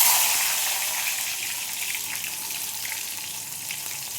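Tomato dropped into hot oil in a pan over a lowered gas flame, a loud hissing burst that settles into a steady, slightly quieter frying sizzle close by.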